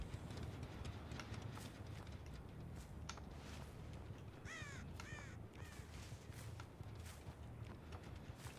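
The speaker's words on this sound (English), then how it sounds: "Couldn't tell if that was the crows doing something there" Crows caw a few times mid-distance in the Dead by Daylight video game, half-buried in a dense bed of ambient wind and rustling noise with faint scattered footstep-like knocks.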